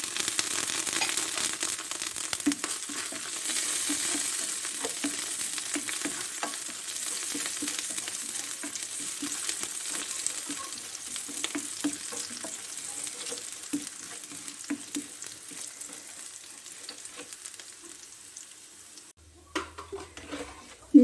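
Chopped ginger, garlic and green chili sizzle steadily in hot oil in a pan, a continuous crackling fry with faint stirring clicks, close and alone, cutting off near the end.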